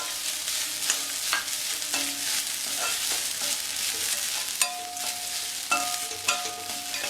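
Grated coconut with ginger sautés in a pan, giving a close, steady sizzle punctuated by sharp metallic clinks and scrapes of a ladle against the pan.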